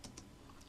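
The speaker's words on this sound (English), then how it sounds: "we can listen and we can start clicking our keyboard" Several soft, quick clicks come from a computer keyboard, faint and close, with no speech.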